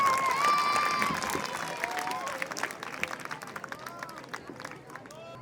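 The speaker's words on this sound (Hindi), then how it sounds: "तो प्लीज उनके लिए एक बहुत जोरदार तालियां।" Applause and cheering from a large alumni-meet audience, loud at first then thinning, with a whistle-like tone early and voices mixed throughout.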